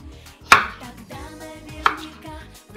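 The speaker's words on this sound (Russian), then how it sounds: "Для начала мы порежем картошечку кубиками." A knife chopping potatoes into cubes on a board, two sharp clear chops about a second apart, close and loud, with quiet kitchen background between them.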